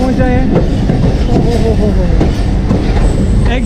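A train rolls through a railway station on the Multan to Darya Khan line, its wheels clattering loudly and continuously with squealing metal tones, close and dominant throughout.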